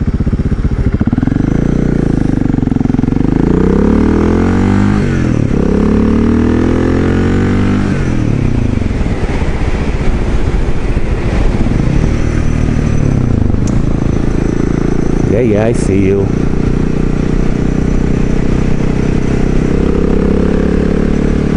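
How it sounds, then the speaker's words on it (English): Cruiser motorcycle with a Scorpion muffler rumbles loudly and close, revving up and down through several throttle blips over a steady deep exhaust note, with a brief spoken remark partway through. "Now I have a Scorpion muffler on this bad boy, and I absolutely love the way it sounds."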